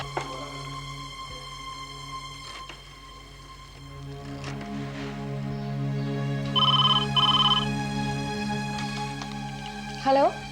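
A telephone rings midway in a domestic Indian TV drama scene, two short electronic trilling bursts over a soft, sustained background music bed.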